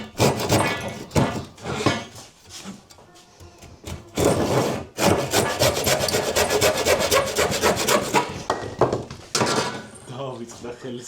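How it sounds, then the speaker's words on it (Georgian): A hand saw cuts through wood during a camper kitchen build, giving rough, rhythmic back-and-forth rasping strokes in bursts broken by short pauses, with a person talking between and over the sawing. "დავიწყდა ხელის ხერხის ხმარება"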